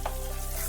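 Chopped onion hits hot mustard oil with salt and turmeric, a steady close sizzle with light stirring scrapes throughout, no voices.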